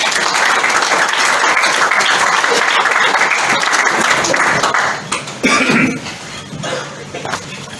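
An audience at a talk applauds warmly to welcome a speaker, with dense, sustained clapping that thins out near the end, where scattered claps and a cough remain.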